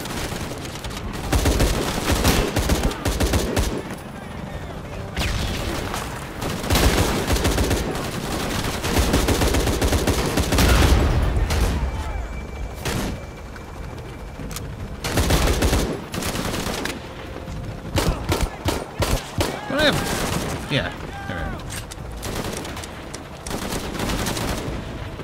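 Enemy shotgun fire in Shadow of the Tomb Raider bursts as repeated loud, sharp blasts, packed in rapid clusters with short gaps, and keeps going as a close firefight.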